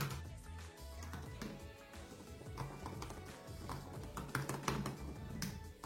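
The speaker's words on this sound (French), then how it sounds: "c'est le clavier qui va être plus doux et plus silencieux" Fingers type rapidly on a 15-inch i7 MacBook Pro 2018 keyboard, a close, irregular stream of light clicking taps over a low background hum.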